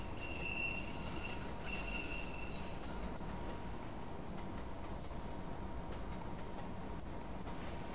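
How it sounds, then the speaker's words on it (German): A Munich U-Bahn four-car train made of U525 cars runs steadily with a continuous broad rumble, faint wheel squeal and high whine early on, heard from on board with no talk. "das ist sogar der 4-Wagen-Zug"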